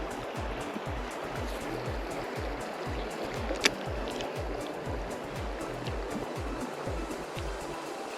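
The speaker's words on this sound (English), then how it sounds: "And this is some fast water." Fast-flowing river water at a trout fishing spot rushes continuously and close by, a constant broadband wash with faint rhythmic low thumps and one brief sharp click partway through.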